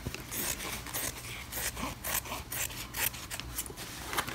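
Scissors cut through fabric for a bow in a quick series of close, rasping snips, repeated steadily with no talking.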